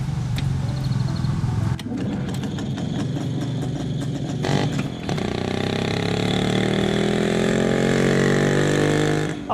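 A Čezeta scooter's two-stroke 173cc, 12.5 hp engine with a four-speed semi-automatic gearbox runs close by, idling with a buzzing rattle and then revving into a rising, sustained drone.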